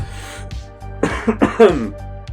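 Several sharp, close coughs and a throat clearing come in quick bursts after a quieter moment, sounding strained like someone sputtering after choking on a sip of tea.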